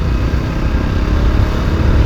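An ABS motorcycle (4B) rides along an open road with a steady, loud engine drone mixed with heavy wind rush, continuous and close, with no pauses.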